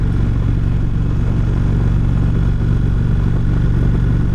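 An Indian Roadmaster touring motorcycle on a demo ride, its steady deep engine drone and road rumble loud and continuous throughout, with no talking.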